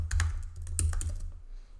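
Quick keystrokes tap on a computer keyboard while editing a website heading, a brief burst of light clicks over a low hum, fading out after about a second.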